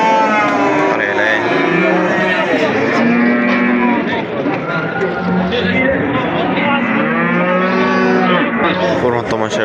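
A cow at a busy livestock bazaar gives several long, loud moos close by, one after another, while people chatter in the background throughout.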